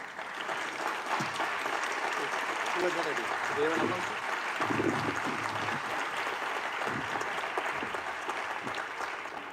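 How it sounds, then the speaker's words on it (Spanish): Audience applause at a talk about the Sudarium of Oviedo, a steady, moderately distant clapping wash lasting nearly ten seconds, with some murmured voices mixed in. "Fuerte aplauso."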